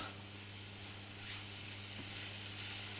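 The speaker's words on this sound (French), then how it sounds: "on va laisser les pommes revenir" Apples sautéing in a pan for a tarte tatin give a steady, even sizzle with soft hissing steam, close and continuous, no voices.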